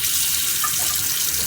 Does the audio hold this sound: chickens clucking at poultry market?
no